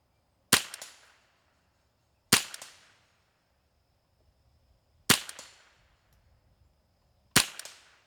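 Four single sharp cracks from a Ruger 10/22 rifle fired at targets, evenly spaced about two seconds apart, each with a short fading tail.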